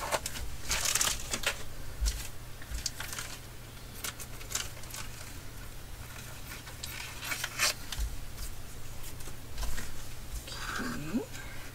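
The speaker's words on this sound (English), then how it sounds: "Then I have to cut a piece of this plastic out." Scissors cut a piece of colored plastic at close range, crinkling snips and rustling handling noises recurring in short bursts across the span, with a faint voice now and then.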